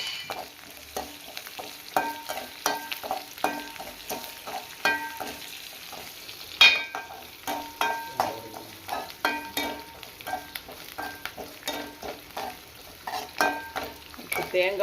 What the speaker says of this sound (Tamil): கொஞ்சம் உப்பு போடுறேன் வெங்காயம் வேகிறதுக்கு தள்ளிட்டு